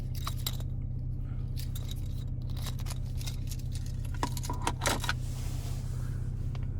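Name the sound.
Porsche Panamera key fob being handled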